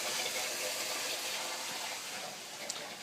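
Water drains and gushes steadily from an aquarium gravel cleaner during a tank water change, a faint continuous rushing sound heard alone.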